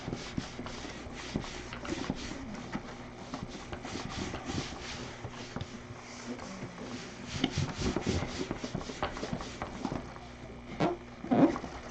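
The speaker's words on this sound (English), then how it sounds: "I'm gonna have to sand in order to make the shine come up" A dull spot on a wooden finish is sanded by hand to bring up the shine, a steady close rubbing and scraping that continues throughout with small irregular strokes.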